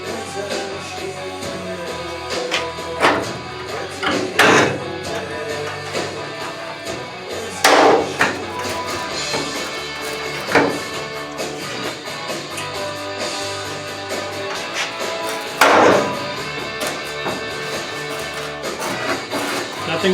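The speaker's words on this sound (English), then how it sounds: "Nothing more satisfying than pop rivets popping, or spot welds popping." Hammer blows knocking spot welds loose on the structural inner panel of a 1968 Triumph TR250 bonnet, several loud metallic strikes spaced irregularly over ongoing workshop clatter, with some talk in the background.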